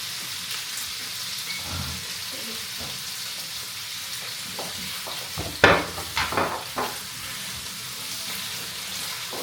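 Chicken frying for tacos with garlic powder, Worcestershire sauce and soy sauce, a steady sizzle with several louder scraping stirs near the middle.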